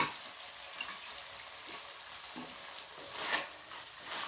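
Peas and chopped tomatoes go into a pan of fried chicken, raising a soft, even sizzle with a few gentle stirring scrapes, close but fairly quiet.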